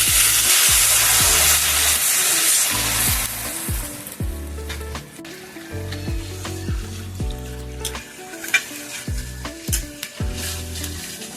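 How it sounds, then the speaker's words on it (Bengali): A pan of rice and fried vegetables for a vegetarian Bengali ghonto, a steady close hiss and bubbling sizzle as water goes in, with soft background music and occasional light clinks. "চালটা ফুটে যাওয়া পর্যন্ত এটাকে সিদ্ধ করে নেব।"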